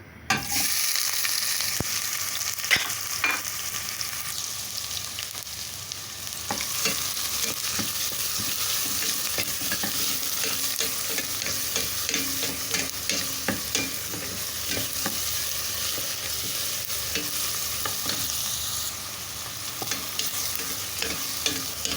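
Onions sizzle steadily in melted ghee, a loud continuous frying hiss broken by the scrape and clack of a spoon stirring the pan throughout.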